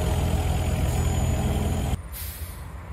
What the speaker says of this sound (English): All right, the first truck is leaving.